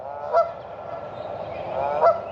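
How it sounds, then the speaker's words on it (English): Two loud goose honks ring out, one early and one late, with softer honking and gabbling between them. "But geese, they just don't shut up."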